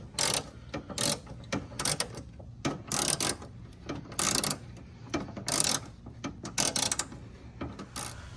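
Ratchet wrench backing out an unusually long bolt while installing CK71 Stinger 2.0 daytime running lights, a close series of loud clicking ratchet bursts in quick repeated strokes with brief pauses, no talking.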